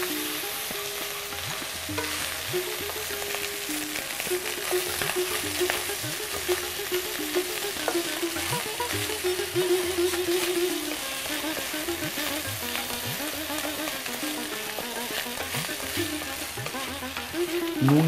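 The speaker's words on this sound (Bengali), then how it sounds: "গরম মশলা ফাটছে।" Whole garam masala spices crackle and sizzle steadily in hot oil, with stirring scrapes and small pops continuing throughout, close and fairly loud with no talk.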